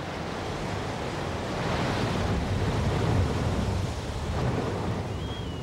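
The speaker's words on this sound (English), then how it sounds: "the blowhole." Rough ocean surf surges through a blowhole, a continuous broadband roar of crashing waves and rushing water that swells and recedes, with wind buffeting the microphone.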